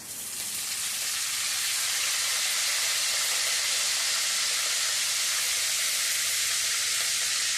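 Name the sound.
tempering spices and curry leaves sizzling in oil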